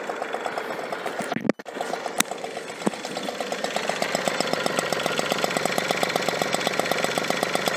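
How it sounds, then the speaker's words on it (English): A 1985 vintage Enfield mofa with a two-stroke engine runs close by with a rapid, buzzy, evenly pulsing putter after a couple of sharp clunks, holding a steady idle. "You can see the engine is on. So let's hear the sound now."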